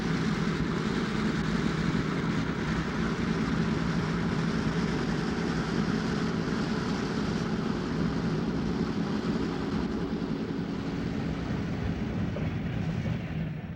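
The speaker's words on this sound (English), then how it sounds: "The Santa Fe Chief would leave the LA Union Passenger Terminal at 11:30 a.m. and move out through the maze of tracks in the Yard Throat area." The Santa Fe Chief passenger train rumbles steadily out of the LA Union Passenger Terminal through the yard throat, a continuous low, moderately loud rolling drone that fades slightly toward the end, with no voices.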